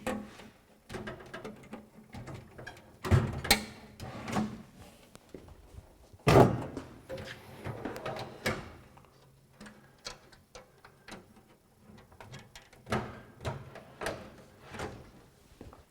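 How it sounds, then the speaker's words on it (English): Steel drawers sliding out of a USA-made Craftsman 3000 Series 54-inch rolling tool cabinet, with repeated rattling clanks and a few sharp metallic bangs spread across the stretch, close by with no talk. "I'm going to pull out these drawers here and let's look behind them."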